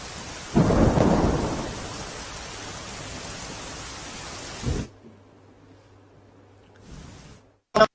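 Heavy rain in Banaskantha, Gujarat, roars steadily with a loud rumble of thunder early on, then fades; a low hum and a sharp knock follow near the end.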